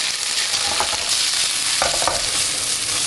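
Meat fries in a hot pot after the base has browned, giving a loud, steady sizzle with a few stirring clatters and scrapes partway through, with no talking.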